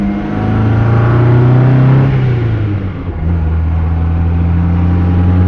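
A 1959 MGA Twin Cam drives along with a loud, steady engine drone and a clear gearbox whine that rises in pitch, dips through a gear change, then settles into a sustained tone, heard from inside the car.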